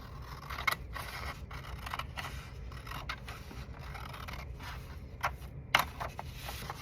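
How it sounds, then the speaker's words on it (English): Scissors snip through paper in a series of short, close cuts, with irregular pauses and a couple of sharper snips near the end. "very carefully with your scissors, cut on the line"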